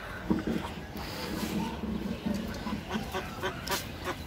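Ducks on a rooftop farm quack in short nasal bursts, several calls overlapping at close range, with some rustling and background noise around them.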